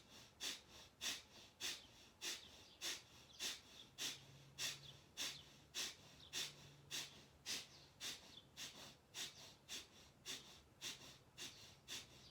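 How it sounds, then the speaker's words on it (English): Rapid, rhythmic breath of fire yoga breathing, sharp nasal exhales about twice per second, close and quiet, with no talk. "we're going to do breath of fire. So here we go. Here's that breath again."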